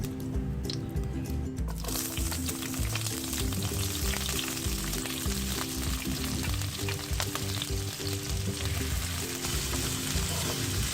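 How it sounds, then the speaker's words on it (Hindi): Two sliced onions dropped into hot oil, giving a loud, steady close sizzle that continues throughout with a low hum beneath it. "अब इसी ऑयल में 2 प्याज स्लाइस किए हुए डाल दें।"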